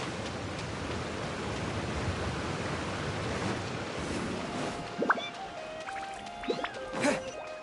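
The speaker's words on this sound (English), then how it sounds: "Big waterfalls." Large waterfalls in the video game Genshin Impact, set in the Sumeru region, pour as a steady broadband roar throughout. A few brief tonal game chimes and effects come in near the end.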